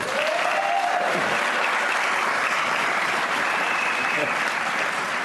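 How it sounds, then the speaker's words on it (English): Steady, loud applause from a large audience at the Virginia State of the Commonwealth address in 2017, continuous clapping filling the hall throughout with no pause. "That alone is worth a great round of applause"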